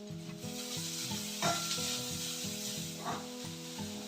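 Onion, fennel seeds and grated coconut fry in hot oil for a raw jackfruit curry, giving a steady close sizzle broken by two brief scraping stirs of the pan.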